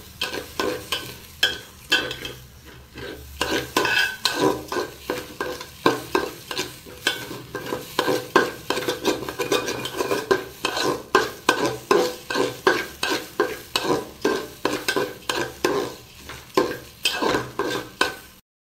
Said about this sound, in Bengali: চাল ভাজা ভালো হলে কিন্তু পোলাওটা বেশ ঝরঝরে হবে, তাই চালটা কিন্তু ভালো করে ভাজার দরকার আছে